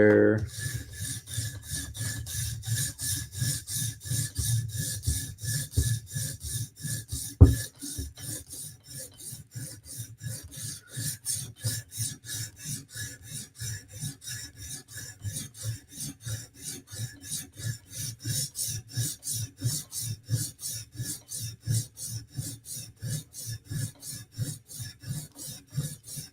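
A knife blade is stroked repeatedly across a sharpening stone in a steady back-and-forth rasp, dozens of close, even strokes with a brief louder knock early on, loud and near with no talk.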